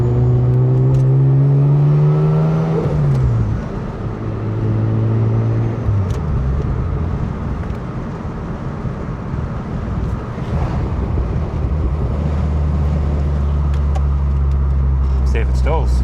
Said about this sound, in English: Now we've got an idle problem.